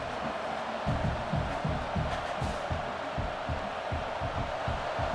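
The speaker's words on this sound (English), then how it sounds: "this crowd is fired up. Listen to this noise here" A dense, roaring stadium crowd cheering continuously at a Texas A&M vs LSU game in the video game EA Sports College Football 26, a loud wall of voices with rhythmic low thumps running underneath.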